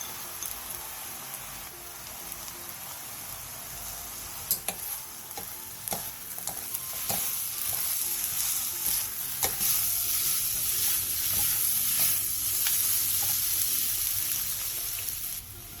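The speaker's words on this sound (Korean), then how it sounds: "그 다음 소주 3스푼, 양파, 당근, 청양고추를 넣고 양파가 투명해질 때까지 볶아주세요" Onion, carrot and cheongyang chili stir-fried with soju in a pan give a steady close sizzle, with scattered clicks and scrapes of stirring building to a fuller crackle toward the end; no voices.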